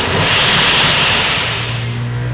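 A 260 cubic inch turbocharged engine runs hard on a dyno, a loud steady roar with a droning low hum that eases slightly toward the end.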